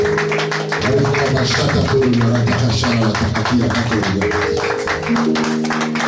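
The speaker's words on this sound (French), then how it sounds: "Applaudissez plus fort." Rhythmic congregational clapping fills a Sunday church service, sharp regular claps pulsing in time over loud sustained music with voices, growing full and energetic.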